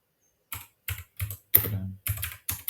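Short bursts of close computer keyboard typing entering a command, five or six quick clusters of key clicks separated by brief pauses, with no talking.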